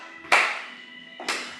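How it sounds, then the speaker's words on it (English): Two sharp claps in a senior fitness exercise class, the first loud and the second a bit softer about a second later, each with a bright ringing decay over a steady background hum. "Side kick and clap."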